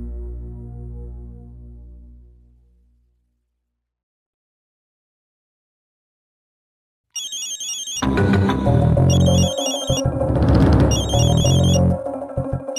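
A low tone fades out into several seconds of silence, then a loud electronic phone ringtone plays a repeating, busy melody.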